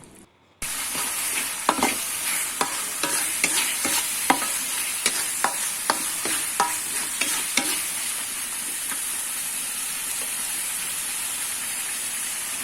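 Bay leaves and torn lime leaves stir-fry in a hot pan with a steady close sizzle, while a spatula scrapes and taps the pan in a quick rhythm that stops partway through as the frying hiss continues.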